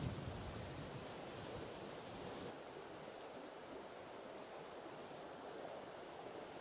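The Sulby River on the Isle of Man runs in full flow after heavy rain, giving a constant broad rushing wash that stays steady and moderately close throughout.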